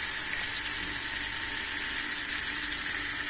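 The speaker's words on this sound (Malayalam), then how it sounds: "ഇനി നമുക്ക് ഇതിൻ്റെ ആവശ്യമുള്ളത് കുറച്ച് വെള്ളം ഒഴിക്കാം" Water pours steadily into a pan of chicken curry, a continuous close hiss of running liquid with no pauses and no voices.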